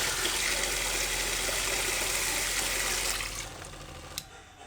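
Water rushes steadily through a 12-volt Shurflo Trail King 7 pump system with 10mm food-grade hose in an overland or van setup, a loud continuous gushing flow that fades out near the end, followed by a brief click.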